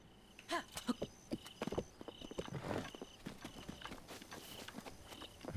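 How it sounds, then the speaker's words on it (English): Hoof clip-clops of a horse walking in the video game The Legend of Zelda: Breath of the Wild, an uneven run of close, moderately loud steps with no talk over them. "It is Link's horse?"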